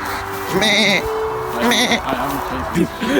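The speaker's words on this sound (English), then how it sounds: "I forgot that the sheep are here." Sheep bleating in the open at Stonehenge, several loud wavering calls close by, repeated over a few seconds, with people talking and the wind in the background.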